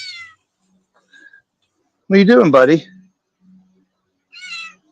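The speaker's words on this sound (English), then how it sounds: "You have one of my cats at the door here." Parker the cat meowing at a door beside a herb garden, one loud, close, drawn-out meow followed by a short chirp, with a voice speaking briefly before it.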